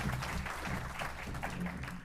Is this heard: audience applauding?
yes